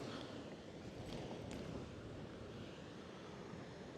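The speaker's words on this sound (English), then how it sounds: "Holy cow, it's like super windy." Steady, rushing wind buffets the microphone outdoors in a continuous broadband roar, fairly faint overall, with no voices.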